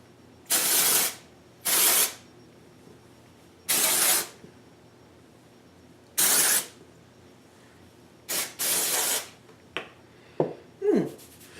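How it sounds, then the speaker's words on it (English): Several short bursts of dry shampoo aerosol spray, each a second or so long, hissing loudly and close, separated by quiet pauses, then a few small handling clicks. "shake well, spray 8 inches away from roots, massage into scalp"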